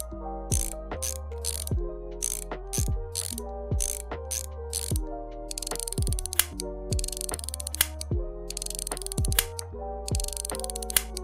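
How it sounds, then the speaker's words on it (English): A socket wrench ratchets bolts tight in a VR training game for a heat-shrink cable joint, giving quick repeated clicking runs with mechanical pawl ticks, close and clear with no talk. "Now tighten the bolts until their heads break off"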